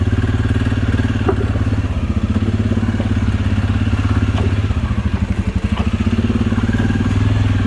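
A Suzuki KingQuad 750 ATV crawls over rocks in low range on light throttle, its engine chugging at a steady low rhythm close by, with occasional clunks and knocks from the rocky ground.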